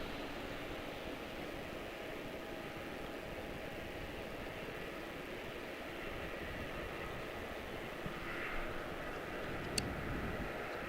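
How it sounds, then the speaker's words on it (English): A United Express airliner passing near Charlotte-Douglas International Airport, a steady distant engine roar with a faint whine, holding even across the clip without voices. "That would be the United Express that just went by"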